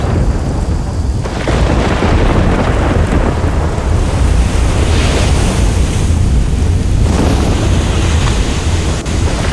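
A storm in the video game Risen 2 rolls on with heavy thunder, rain, gusting wind and crashing surf, loud and continuous with no talk.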